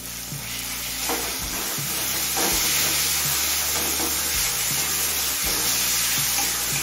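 Ginger paste fries with softened tomatoes in a pan, giving a steady sizzle with stirring scrapes and soft knocks, close and fairly loud with no talking.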